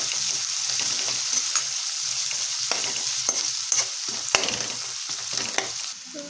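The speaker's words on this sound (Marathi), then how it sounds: "कांदा चांगला परतून घ्यायचा आहे लालसर कलर येईपर्यंत हा कांदा असा परतून घ्यायचा आहे" Onion sautéing in oil in a pan for egg biryani, a constant light sizzle with repeated scraping stirs and occasional spoon taps, close and moderate, no talking.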